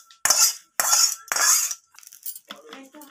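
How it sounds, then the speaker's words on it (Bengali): Boiled vegetables are tipped from a pan into a bowl, giving three loud metallic scrapes and clanks of utensil against pan, followed by softer rattling and shuffling. "এরপর আমি এটাকে একটা পাত্রে ঢেলে নেব।"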